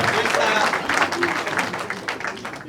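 Audience at a public gathering in Grand Bandundu applauding, a steady wash of many hands clapping at moderate distance, with voices mixed in beneath it.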